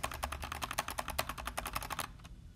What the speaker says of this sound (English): you don't want keyboard sounds playing while he's shooting